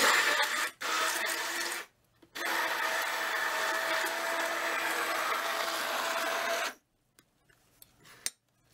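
A blender whirs through vegan chocolate cake batter sweetened with molasses, running in loud, steady bursts: a short run, a brief stop, then a long sustained spin before it cuts out, leaving a few small clicks and knocks.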